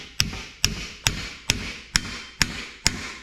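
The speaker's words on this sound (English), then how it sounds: "let's go over to the anvil and let's hammer them over" Leaf springs hammered cold on an anvil: seven sharp, ringing metallic strikes in an even rhythm about half a second apart, close and clear with nothing else heard.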